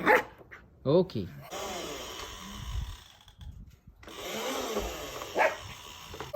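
A puppy barks at a toy lawn mower, with a few sharp barks near the start and again later amid whirring toy noise and indoor rustling, while people talk.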